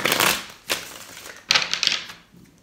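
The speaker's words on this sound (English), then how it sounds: "3 shuffles." Tarot cards riffle-shuffled by hand in close, crisp bursts, with three distinct shuffles separated by short pauses and no talk over them.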